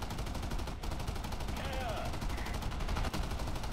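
Sustained gunfire in War Thunder during a B-25 bomber mission, a dense continuous rattle of aircraft guns running loud and steady with engine roar beneath it and faint voices mixed in.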